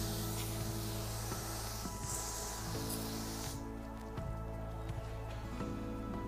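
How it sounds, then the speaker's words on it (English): A garden hose sprays water to rinse a two-part teak cleaner off wood, producing a continuous close hissing wash of water that shifts slightly in tone partway through. "the last step is to use the hose to rinse the Part 2 cleaner off of the"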